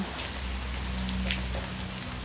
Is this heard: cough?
no